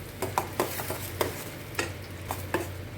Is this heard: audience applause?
no